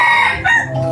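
A free-range male village rooster crows loudly and close by in one brief, strained call lasting about a second.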